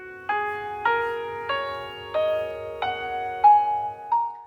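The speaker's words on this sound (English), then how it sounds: "I think this is a Chinese pentatonic scale." A small DIY electronic organ steps up a Chinese pentatonic scale, seven clear synthetic notes struck one after another at an even pace, each ringing and fading before the next; close and alone.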